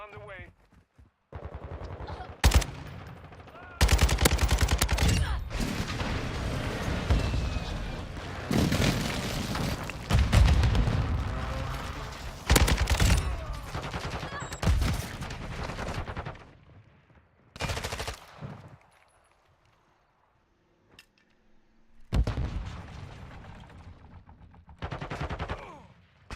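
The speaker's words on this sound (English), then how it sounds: "Friendly airstrike on the way." Loud bursts of video game gunfire and heavy explosions from an incoming friendly airstrike come in repeated dense clusters, with short quiet gaps and a final pair of blasts near the end.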